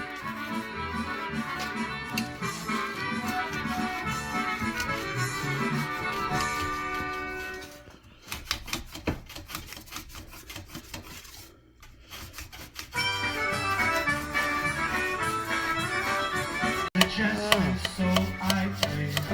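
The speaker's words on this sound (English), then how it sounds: "the part that's in there right now is called a burnishing tool" Steady scraping and tapping from a burnishing tool working the brass of a WW1 bugle under restoration, with a continuous tonal music bed throughout and a brief quieter stretch in the middle; no talk.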